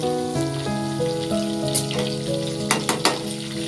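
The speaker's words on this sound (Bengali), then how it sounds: "চিকেনটাকে জাস্ট এপাশ ওপাশ করে একটু হালকাভাবে ভেজে নিতে হবে" Chicken pieces fry lightly in a pan with a soft sizzle beneath melodic background music, ending in a few quick clattering knocks as the pieces are turned.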